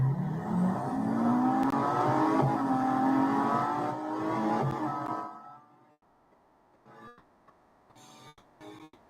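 Video-game race car engine revving hard through a drag race in Real Racing 3, rising pitched harmonics climbing for about five seconds, then cutting off abruptly into near silence broken by a few short clicks.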